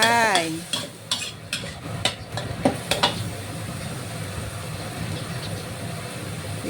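Minced pork and thinly sliced long beans stir-fry in a hot pan for Thai basil pork, with a steady sizzle and several quick scraping, clattering strokes of a spatula early on.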